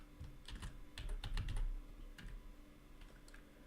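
Code being typed on a computer keyboard, a quick burst of close key clicks followed by a few sparser taps, fairly quiet with no voice.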